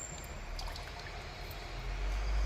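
Water pours steadily through a strainer while a homemade hair-remedy juice is filtered, giving a soft continuous trickle that swells slightly toward the end, with no talk.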